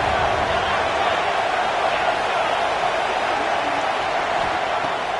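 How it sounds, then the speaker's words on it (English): Ohio State Buckeyes football stadium crowd roaring steadily on a third down against UNC, a dense, continuous wash of cheering and noise with no breaks. "The Buckeye crowd alive on third down."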